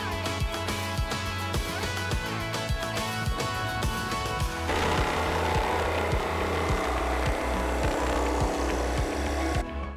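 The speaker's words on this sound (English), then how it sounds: "I'm going to use my orbital sander to smooth it out and then cut the shape out using my jigsaw" An orbital sander and then a jigsaw working a glued-up cedar paint palette: a steady power-tool buzz that gives way about halfway through to a louder, rougher, rhythmic cutting rasp, continuous and close.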